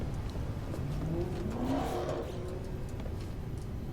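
Loud car engine revving from an emote in the No Man's Sky video game, a rising mid-pitched growl that swells over four seconds under a steady noisy background.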